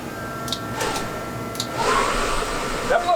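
A school bus defroster blower fan blows hard as a steady, loud rushing whoosh with brief clicks and rustles from work on the bus dashboard.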